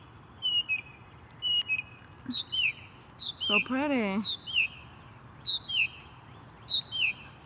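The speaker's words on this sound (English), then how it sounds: "Beautiful bird." Morning birds in the Sugarland and Stafford area repeat short, bright, whistled chirps in regular bursts, close and clear, while another call warbles briefly in the middle. A person speaks softly once.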